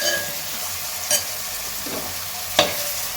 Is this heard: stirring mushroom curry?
yes